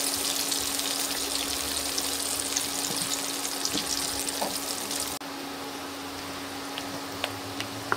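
Pieces of chicken tendon deep-frying in hot oil give off a dense, steady sizzle and crackle that runs the whole time, close and even, easing slightly partway through.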